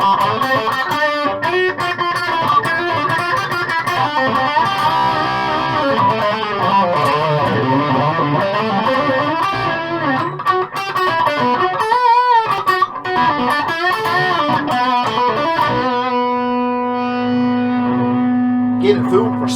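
Electric guitar played through a distorted Friedman Mini BE amp with the gain high, a dense, loud metal riff with harmonically rich sustained chords, then a held note ringing out near the end.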